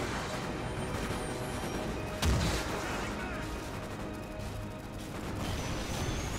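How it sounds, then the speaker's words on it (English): A loud explosion from Call of Duty: Ghosts gameplay, a single heavy blast bursting through a dense, constant roar of in-game combat noise. "That explosion, though."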